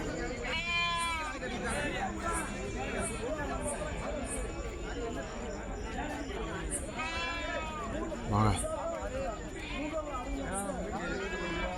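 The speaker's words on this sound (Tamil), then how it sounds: "இது பூரா வெள்ளாடு கிடக்கு அதில் ஒன்று ரெண்டு செம்பரியும் கிடக்கு" Goats and a few sheep bleating at a busy livestock market, several wavering calls repeating near and farther off under steady crowd chatter and someone speaking.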